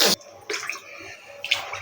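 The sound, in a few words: water being poured into rice for cooking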